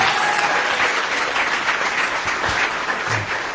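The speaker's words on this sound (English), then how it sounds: "Give yourselves a round of applause one more time." Audience at a college soccer national watch party applauding: dense, sustained clapping from a nearby crowd fills the whole stretch at a steady, loud level with no voices on top.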